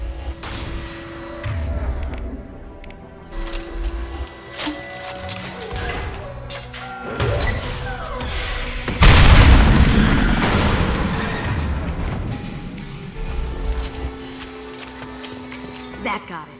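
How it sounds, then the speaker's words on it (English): Fuel tanks are blown up in Mass Effect 2 Legendary Edition: one loud, deep boom bursts out midway and rumbles off slowly beneath game music and ambient combat noise, while voices talk before and after it. "These are full of fuel. There's easily enough to blast through the wall."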